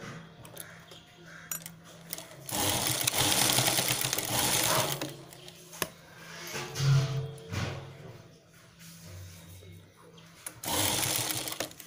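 A sewing machine stitches one side of a velvet purse in several runs of rapid mechanical whirring separated by pauses. The machine is close and fairly loud, and faint voices may be present.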